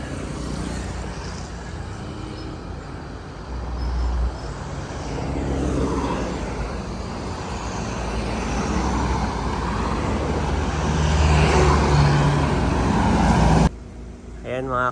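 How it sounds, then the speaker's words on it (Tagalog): Fast vehicles rush past on a road near a bridge, a steady loud roar of traffic swelling and fading for most of the time before cutting off abruptly near the end. "Mabibilis dito ang sasakyan."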